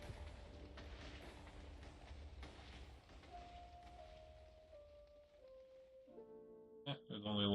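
TNT blocks explode in a Minecraft hardcore world, a few deep rumbling booms and crackles heard under background music, with a louder burst near the end.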